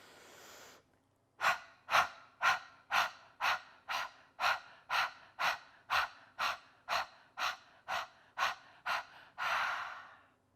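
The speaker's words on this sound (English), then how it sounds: "exhale through the mouth, pulling the abs and the diaphragm back so you can see my body moving" Audible breathing exercise, a series of about seventeen sharp, evenly paced breaths forced out through the mouth, close and loud, ending in one longer exhale.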